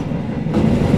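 The Tegal Bahari passenger train runs along the rails toward Cirebon, giving a steady, loud rumble with rhythmic wheel clatter and a rising roar midway, heard from on board.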